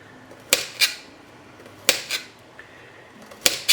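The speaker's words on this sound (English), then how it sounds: "cut slices like this, and I'm not going to mince it because I want to see the garlic as well." A kitchen knife cuts garlic cloves into slices on a titanium cutting board, giving sharp, close metallic taps that come in quick pairs with short pauses between them.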